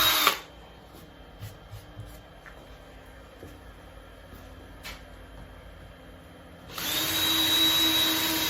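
Power drill boring a pilot hole into an MDF spoil board in a woodworking shop: a short whir at the start, a quiet stretch with small clicks, then a steady loud drill whine for the last two seconds.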